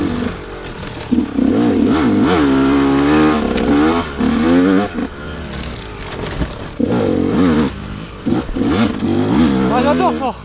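A KTM 125 SX or GasGas 250 enduro dirt bike rides a narrow trail, its engine loud and close, revving up and down repeatedly with rattly accelerations while a rider talks over it.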